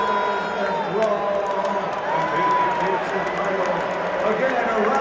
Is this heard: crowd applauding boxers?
yes